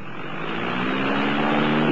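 Small airplane accelerating for takeoff from a short field, a steady broadband engine and propeller roar that builds gradually in loudness and stays close throughout, with no talking.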